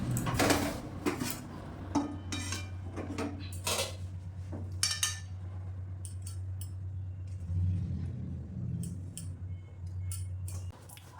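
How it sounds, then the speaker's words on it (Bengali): Rice-flour dough for rose pithe being kneaded in a pot, giving repeated close knocks and scrapes against the vessel over a steady low hum, with no speech. "গোলাপ পিঠের ডোটা এইভাবে মাখতে হবে, যতক্ষণ না মসৃণ হয় ততক্ষণ মাখতে হবে।"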